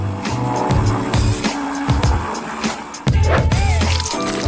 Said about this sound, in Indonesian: kita nyalakan blendernya